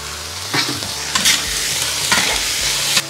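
Clams stir-fried with lard and bean paste in an outdoor iron wok, a steady hiss of frying broken by several sharp scraping strokes of a spatula against the metal, close and alone.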